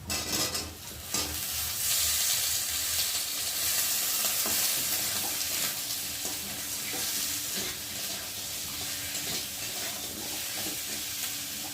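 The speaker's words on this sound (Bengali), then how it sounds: "আর এখন এই যে কেটে রাখা সরু সরু করে আলুগুলো দিয়ে ভেজে নেব।" Thinly sliced potatoes fry in a pan over browned onions for a fish and potato curry, giving a continuous loud sizzle with occasional stirring scrapes, heard close and alone for about twelve seconds.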